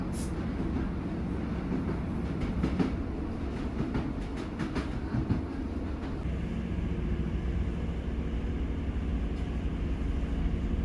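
A train leaving Huddersfield on the Penistone Line rumbles over the Paddock Viaduct, a steady low rolling roar with rhythmic wheel clicks and rattles, heard from on board, continuous and without talk.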